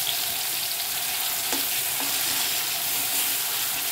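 Tomato, onion and garlic paste for a vegetable curry frying in a pan, a steady dense sizzle throughout with a couple of soft stirring clicks, close and alone.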